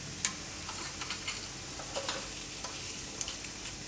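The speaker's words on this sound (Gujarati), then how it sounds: "ઘી ને તેલ આપણું ગરમ થઈ ગયું છે, તો એમાં થોડુંક જીરું નાખીશું આપણે અને થોડાક આખા મસાલા નાખીશું" Cumin seeds and whole spices like cinnamon, cloves and peppercorns sizzle in hot ghee and oil, a quiet steady fry with small crackles and a few sharp ticks scattered throughout, no voices.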